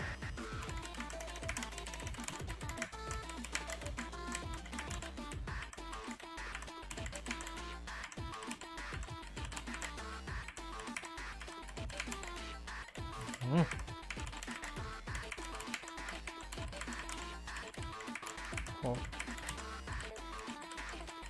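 Computer keyboard typing while playing the Friday Night Funkin' Tricky the Clown mod, a steady stream of close clicks that sits under loud game music and someone talking throughout.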